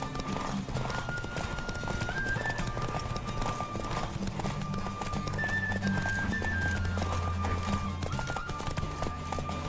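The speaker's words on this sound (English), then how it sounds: "Don't spare the horse." Galloping horse hooves from the video game The Witcher 3: Wild Hunt, a quick, steady clip-clop running the whole time over a layer of game music.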